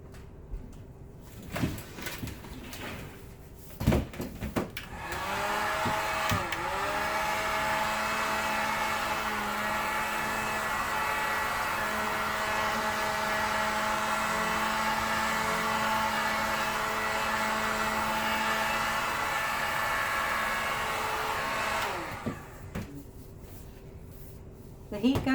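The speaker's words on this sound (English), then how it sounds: "The heat gun, I like it better than a torch." A 1500 watt heat gun runs with a steady, loud blowing whoosh and fan whine for about seventeen seconds, switching on near five seconds and cutting off near twenty-two, used over acrylic dirty pour paint with silicone.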